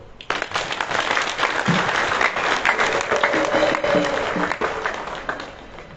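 A church congregation bursts into loud, sustained applause, many hands clapping together in a dense, steady roar for several seconds, with faint voices mixed in.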